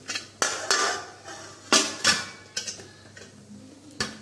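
A metal lid is set onto a pot of gooseberries, giving a series of sharp, close metallic clanks and taps, irregularly spaced, with no talking.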